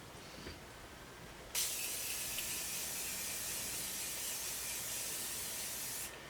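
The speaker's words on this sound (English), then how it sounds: "So I'm going to use my Morphe Continuous Setting Mist." Morphe Continuous Setting Mist sprays in one long, close, even hiss that starts abruptly after a quiet moment and runs steadily for about four and a half seconds before cutting off.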